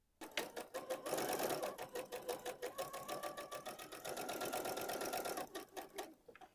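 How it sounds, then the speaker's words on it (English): Sewing machine runs in a steady rapid burst, stitching quilt pieces for a LeMoyne Star block, loud and close with a brief pause near the end. "And we're going to sew that."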